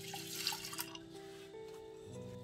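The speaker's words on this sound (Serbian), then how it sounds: "U količini u kojoj sam stavila pahuljice, toliko dodajem mleka." Milk pouring into a cooking pot for oatmeal, heard as a soft liquid splash and trickle up close, faint and alone with no talk.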